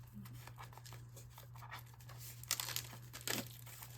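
Plastic packaging for a BetterPress letterpress system is peeled and crumpled by hand, giving a steady crinkly rustle over a low hum, with two sharper tearing bursts near the end.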